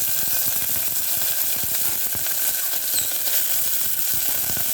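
Vegetables frying and being stirred in a pan while cooking a sukto-style vegetable dish, a steady broadband sizzle with soft irregular scraping ticks from stirring throughout, close and moderately loud.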